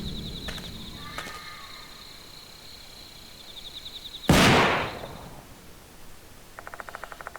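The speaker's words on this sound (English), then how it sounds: "Suddenly, the sound of a gunshot rings out and reverberates through the shrine grounds." A single gunshot cracks out at shrine grounds in the video game Spirit Hunter: Death Mark II. One sharp, loud blast rises from a quiet ambient bed and rings out in a short reverberant tail, followed by faint ticking.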